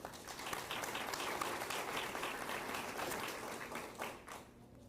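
Applause at a school district board meeting for the first-place special education department and other contest winners, a steady wash of many hands clapping that fades slightly near the end.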